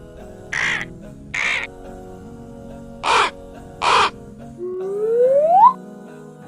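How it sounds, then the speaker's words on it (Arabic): Crow cawing in two pairs of loud, harsh calls, then a rising whistle-like tone at the end; no talk over it. "غراب."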